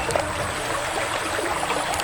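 A forest stream flows steadily beside a riverside cooking spot in the woods, a dense, continuous close-up rush and trickle of water with no talking over it.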